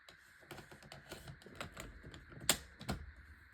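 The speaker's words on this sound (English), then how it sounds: "We'll just use our scissors." Scissors snip through a thick, laser-cut paper scrapbook border, making a series of quiet, close, crisp cuts at an irregular pace, with one sharper snip near the end.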